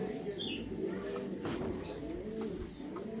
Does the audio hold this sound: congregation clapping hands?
no